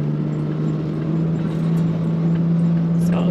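Off-road vehicle engine held on throttle while driving the Baja 1000 course, a steady close droning hum with a strong sustained tone, rising slightly toward the end amid rattling.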